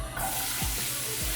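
Potatoes searing in hot oil in a pan, giving a steady close sizzling hiss with a couple of soft low knocks from the pan, and no voices.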